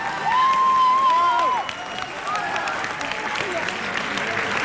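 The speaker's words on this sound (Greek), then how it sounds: "ακούτε τι γίνεται στην αίθουσα από χειροκροτήματα" An audience at the 2003 Greek national Eurovision final applauds and cheers in the hall, a steady wash of clapping with a few shrill whistles or shouts early on.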